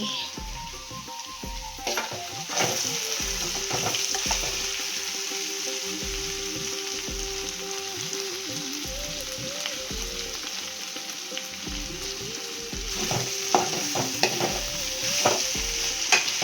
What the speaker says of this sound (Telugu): ఇటేమో చిక్కుడుకాయ ఫ్రై అవుతుంది.